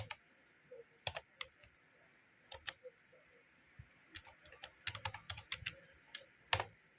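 Rapid typing on a computer keyboard while entering input into a simple C++ program, with irregular bursts of crisp key clicks, close and fairly quiet, and no talking.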